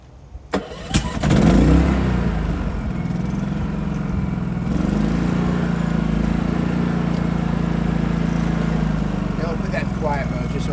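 A portable generator hooked up to an RV's EMS starts with a few sharp clicks and cranking, then settles into a loud, steady engine drone that continues unbroken to the end.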